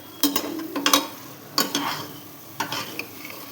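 Mutton pieces sizzle and fry with masala in a pan while a spoon stirs, giving several scraping, clattering strokes over a steady close hiss.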